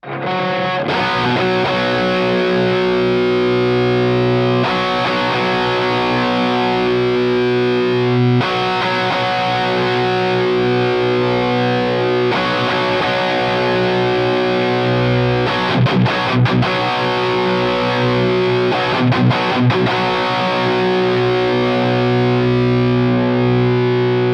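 An electric guitar plays through an ENGL Savage 120 mk II amp with the noise gate on and the tone balance knob engaged, giving heavy, saturated distorted riffing that is loud and continuous, broken by brief chugging stops.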